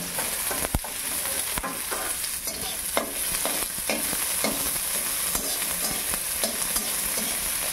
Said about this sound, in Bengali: গরম কড়াইয়ে এখন কারকলের পুরগুলো সবগুলো লাল লাল করে ভেজে নেব